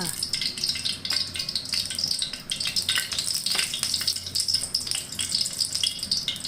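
Oil hisses and crackles steadily in a hot wok, a constant sizzling sound with small pops throughout.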